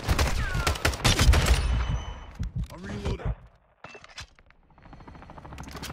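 Rapid submachine gun fire in the online shooter Call of Duty Modern Warfare 2, a loud dense rattle of shots for the first seconds, then scattered impacts and game noise fading toward quiet.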